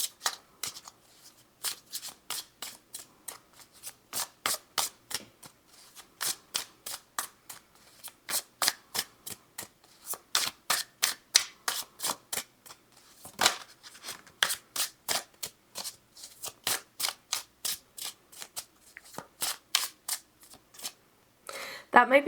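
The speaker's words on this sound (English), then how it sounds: "That might be the longest I've ever shuffled." Tarot cards shuffled by hand over a long stretch, sounding as crisp rapid riffles in quick bursts. The bursts repeat steadily with short gaps, close and clear, with no voices.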